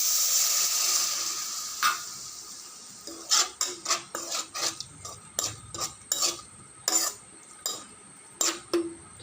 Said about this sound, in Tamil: கா கிளாஸ் தண்ணி ஊற்றணும்